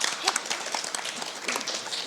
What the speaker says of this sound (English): A round of applause for both the teams.